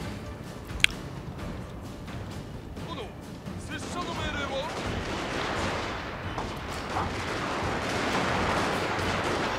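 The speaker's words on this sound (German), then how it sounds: "Ihr dürft ruhig schießen, Jungs." Battle gunfire from the Shogun 2: Fall of the Samurai strategy game: a sharp crack near the start, then a dense, sustained roar of massed volleys and cannon fire that swells and stays loud.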